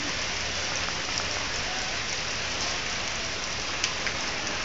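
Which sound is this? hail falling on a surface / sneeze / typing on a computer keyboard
hail falling on a surface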